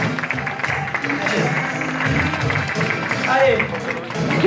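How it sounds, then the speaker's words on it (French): A live audience claps loudly and steadily for a hypnotised pole dancer on stage at a hypnosis show, with crowd voices mixed into the dense applause throughout. "On l'applaudit très très fort."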